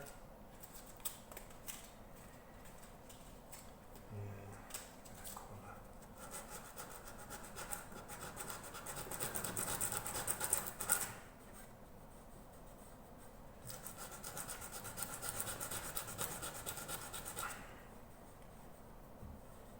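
Hand sanding of mountain dulcimer wood with coarse 80 grit sandpaper, a steady dry rubbing and scratching that swells louder in strokes around the middle and again near the end, close and alone.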